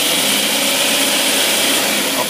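A heavy engine runs on a test stand while being revved up, giving a loud, steady, close roar with a broad rushing hiss and no voices.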